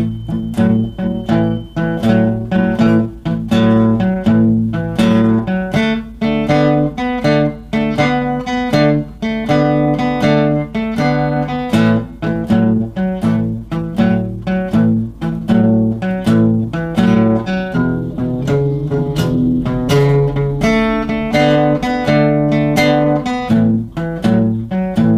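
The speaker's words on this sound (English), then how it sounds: "Blues style of playing, blues chord progression, sounds like this." Guitar strums a 12-bar blues chord progression in A, a loud, close, steady shuffle of rhythmic chord hits repeating through the changes, with no talking.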